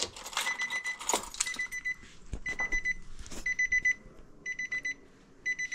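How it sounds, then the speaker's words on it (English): After some rustling and clinking, a high, repetitive electronic chime beeps in short regular bursts, steady and close: the key-left-in-ignition warning of a Nissan NP300. "The infamous key still in car beep."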